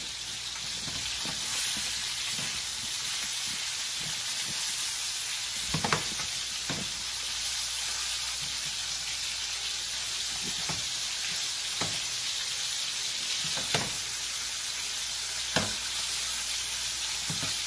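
Lamb chops sear in a hot pan with a steady, close sizzle and hiss throughout, broken by occasional sharp crackles and pops.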